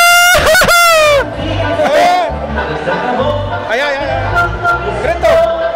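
A nightclub crowd lets out loud, high-pitched shouts and whoops over a pulsing DJ beat, with one long yell at the start and scattered cries following.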